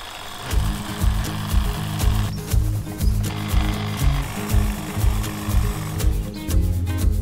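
Battery-powered STIHL HLA 86 hedge trimmer clipping topiary in a manor garden, its cutter bar chattering in a steady pulsing rhythm with repeated short bursts, close and fairly loud, no talking.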